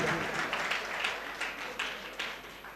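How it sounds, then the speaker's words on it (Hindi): Audience applause at a Vedic mantra recitation competition honoring a participant: steady massed clapping with a few sharper individual claps standing out, moderately loud and continuous for a few seconds. "जोरदार स्वागत, जोरदार तालियों के द्वारा सम्मान कीजिए।"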